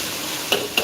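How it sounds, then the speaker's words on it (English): Fried rice sizzles in a wok over a gas flame, giving a steady close hiss, with two sharp clicks of a utensil stirring near the end. "when cooking with the wok, have the gas turned on"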